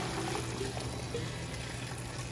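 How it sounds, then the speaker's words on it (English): Water is poured into a pot of Belizean cow foot soup with meat and potatoes heating, a faint, brief splashing trickle close by with no talking. "A little bit of water in here."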